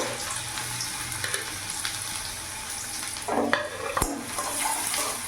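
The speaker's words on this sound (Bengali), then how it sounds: "তেল গরম হয়ে গেছে, আমি এখানে বড় সাইজে 2টো পেঁয়াজ নিয়েছি।" Two large onions fry in hot refined oil over a medium gas flame, a steady close sizzle that runs throughout, with a brief clatter of stirring partway through.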